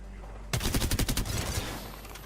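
A rapid burst of automatic gunfire in Apex Legends, about eight sharp close shots in quick rhythm, then a fading ringing tail.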